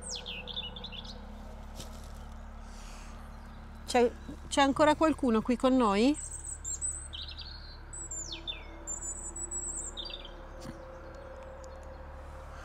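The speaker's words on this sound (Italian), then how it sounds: "C'è un cinguettio infinito." Birds chirp at dusk outdoors, with a few scattered tweets, then a loud, rapid warbling trill nearby, followed by fainter calls over a low steady background hum. A person speaks briefly.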